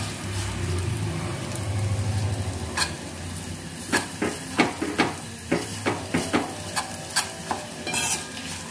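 Ingredients for wood apple yogurt chutney frying in a pan with a soft sizzle, then a spoon stirring and scraping in a steady series of distinct, close scrapes over the continuous hiss.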